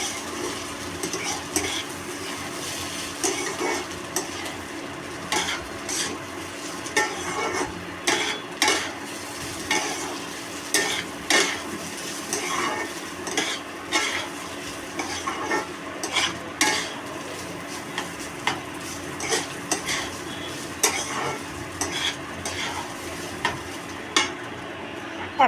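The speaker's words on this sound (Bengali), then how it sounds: "এবার এটাকে একটু নাড়তে হবে যতক্ষণ না চালটা একটু ভাজা ভাজা হচ্ছে" Polao rice frying in a pan while a spoon stirs it, with steady sizzling and repeated scraping clicks of the utensil against the pan, close up and without talk.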